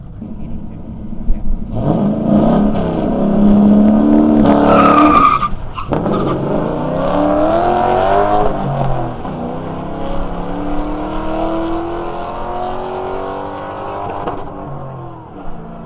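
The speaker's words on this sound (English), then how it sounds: "Found the red line! Limiter never hurt nobody." A Lincoln drag car launches hard at a race event, its engine roaring loud and close with tyre squeal, then holding against the rev limiter in a long, sustained buzzing pull before easing off.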